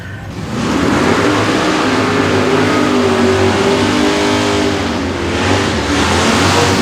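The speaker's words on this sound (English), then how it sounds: "Michael Carney, last year's Extreme winner, right side in the 70 Camaro. Here we go. Burn 'em, burn 'em." A Plymouth Satellite and a 1970 Camaro launch side by side at an Atco Dragway Extreme class drag race, engines roaring loud and sustained after a brief quieter start, dominating the scene.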